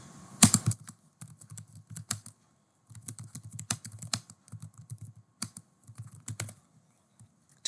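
Computer keyboard being typed on while writing program code, bursts of quick close key clicks separated by short pauses, crisp and fairly loud with no voices.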